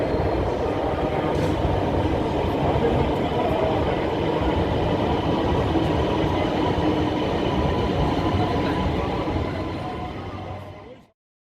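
The Orange Line metro train in Lahore rumbles steadily along the track for about ten seconds, a loud continuous rolling roar that cuts off abruptly at the end.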